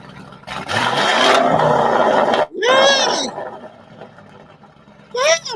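A car engine roars up in a loud rev, then drops off; voices shout and exclaim over and after it, close by.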